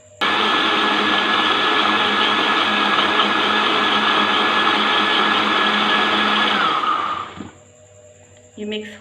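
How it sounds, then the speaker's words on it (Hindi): A kitchen blender purees cooled, seeded tamarind pulp for chutney: a loud, steady motor whir that runs for about seven seconds, then cuts off, leaving near silence and a brief clatter. "अब हम इसे ब्लेंड कर लेंगे ताकि ये सही तरह से मिक्स हो जाए।"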